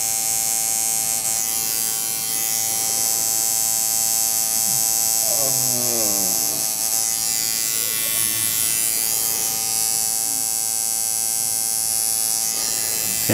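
A tattoo machine buzzes steadily while shading a cover-up piece, a constant high electric whine running throughout with someone speaking briefly over it in the middle.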